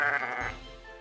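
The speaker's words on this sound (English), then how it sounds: "These sheep are a bit smelly too." A single sheep bleats once, close and fairly loud, a short wavering cry that fades into a quiet outdoor night.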